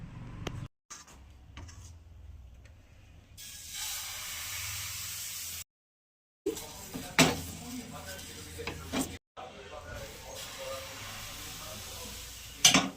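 Oil is spread across a hot griddle with a piece of radish peel over medium gas, producing soft scraping, hissing and faint sizzling strokes broken by short silences, close and quiet, with a voice speaking over parts.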